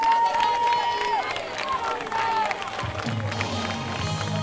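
Applause and cheering rise from a crowd at a Youtuber League football final between Lazio and Juventus, a continuous roar mixed with whistling tones and voices, loud and close.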